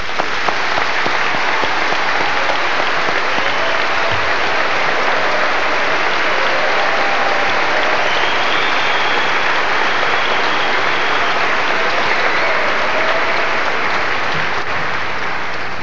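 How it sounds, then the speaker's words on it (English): Parents and family in a hall at a 1994 Sibley graduation ceremony give the graduating class loud, sustained applause. Dense, even clapping continues without a break for about sixteen seconds. "I would hope that all the parents, uncles, aunts, extended family, and indeed the grandparents would join with me to applaud these people at this point"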